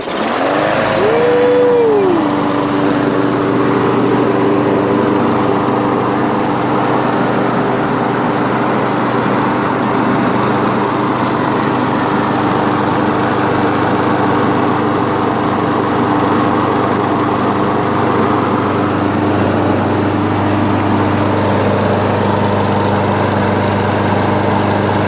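Craftsman Briggs & Stratton lawnmower engine with an auto choke starts on one pull after a carburetor cleaning, then runs loud and steady for the rest of the clip, close to the microphone.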